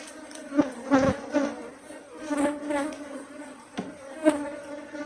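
Wild cavity-nesting honey bees buzzing steadily around an opened forest hive as it is harvested, with a close, fluctuating drone that swells and fades in repeated pulses as individual bees fly near.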